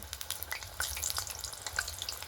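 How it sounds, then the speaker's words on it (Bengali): Stuffed semolina rice cakes sizzle and crackle steadily in hot oil in a wok, with scattered pops and spits throughout, close and continuous. "এখানে পিঠেগুলো আমি দু ব্যাচে ভেজে নেব"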